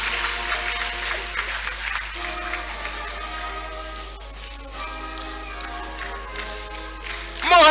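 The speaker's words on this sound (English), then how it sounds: "Round of applause for Justice." Seminar audience applauding at a university event in Ghana, steady moderate clapping that carries on for several seconds with music-like tonal sounds underneath.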